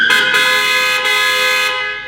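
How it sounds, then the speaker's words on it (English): A speeding car honking angrily in the Peachleaf Valley: Seeds of Love farming game, one loud sustained blare close by that fades slightly toward the end. "a spreading car honks angrily at me"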